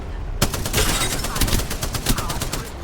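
Dense, rapid gunfire from the shooter game Conduit rattles on continuously, with overlapping loud shots and bursts and no pause for nearly three seconds.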